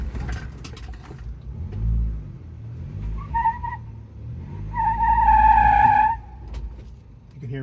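Tires squeal in rising tonal bursts as a Ford Bronco crawls a technical Moab off-road trail, the loudest stretch near the end over a steady low engine rumble.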